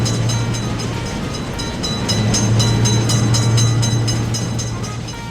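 A train rumbling and clattering past a railroad crossing in a video game, loud and steady with a continuous low hum, no voices.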